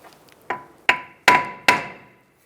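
Four sharp metallic hammer blows on a rusted front brake rotor of a Nissan Altima, each ringing briefly before the next, the strikes getting slightly louder and closer together.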